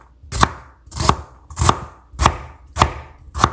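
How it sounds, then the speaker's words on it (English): Six crisp knife chops through taro (colocasia) leaf stems on a cutting board for a Kerala thoran, evenly spaced about every half second, close and clear with no talking. "So we'll chop them also."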